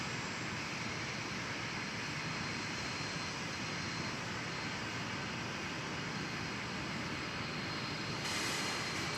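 A Delta Airbus A320 jet taking off at Dallas/Fort Worth airport, a loud, steady engine roar heard from a distance with a broad rushing tone throughout.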